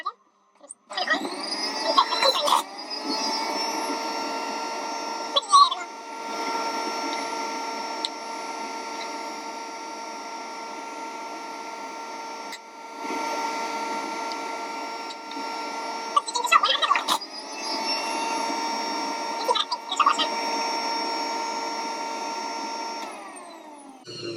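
A kitchen juicer runs in long, steady whirring stretches with a high motor whine, stopping and restarting a few times with brief clunks and bumps between runs, close and loud.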